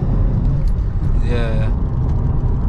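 Lotus Carlton engine pulling hard in second gear near 3,000 rpm, a steady loud low rumble heard from inside the car, with a brief rising whine in the middle and a short spoken word over it.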